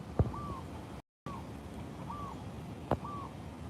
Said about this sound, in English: Oh, look at the bird over here.